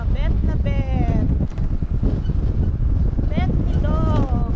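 Wind at a Boracay beach buffets the microphone in a constant low roar, with people chatting and exclaiming over it.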